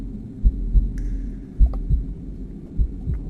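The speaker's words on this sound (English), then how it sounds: "I already hear the heartbeat again." A game heartbeat effect from After the Curtain Call thuds in deep, paired lub-dub beats at a slow, even pace over a low hum, with a few faint high tones drifting in the background.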